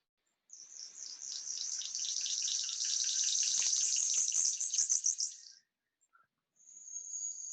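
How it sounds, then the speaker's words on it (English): Male King of Saxony bird-of-paradise giving a strange, unnatural buzzy call, a sustained rasping hiss with rapid pulses lasting several seconds, then a brief pause and a second shorter burst, close and fairly clear. "the male king of Saxony that gives this very unnatural sound that's just unlike anything you've heard before"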